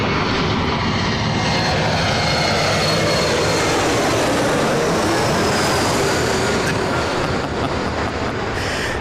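A jet airliner roars overhead at LAX airport, a loud, sustained engine rumble filling the whole stretch without pause.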